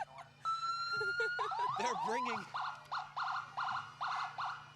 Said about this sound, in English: That's the first thing we've had to figure out how to deal with, which is the sound of sirens over us.